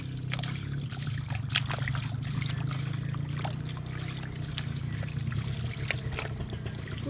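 Water trickles and splashes as freshly dug wild yam tubers are rinsed clean of dirt outdoors in a forest, a soft, steady pouring dribble with small intermittent splashes, fairly quiet and close, with no voices.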